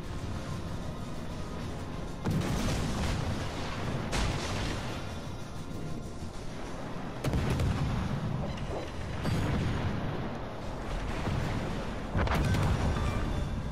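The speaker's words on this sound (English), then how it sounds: "Oh, we got them with the secondaries, it looks like." Ship secondary guns firing in the World of Warships: Legends video game during a battle with the French destroyer Friant, with heavy booming salvos several seconds apart over a continuous rumbling battle backdrop.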